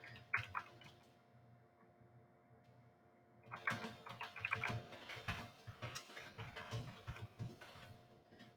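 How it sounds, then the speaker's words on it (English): Quiet, irregular tapping of buttons as numbers are keyed into a calculator, with faint clicks and light handling noise. "especially you're typing in all these numbers"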